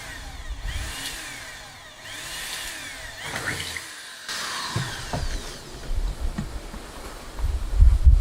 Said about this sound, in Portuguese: a gente vai furar a madeira e o alumínio simultaneamente